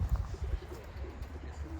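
Tumbler pigeons in a coop give soft, low, repeated coos that come close and steady with a faint rustle, and the sound carries on without a break.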